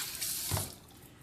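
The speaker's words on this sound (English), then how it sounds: "Run some cold water" Cold tap water pours into a kitchen sink for rinsing pork, a short splashing gush that swells briefly and then fades, heard close with no voices.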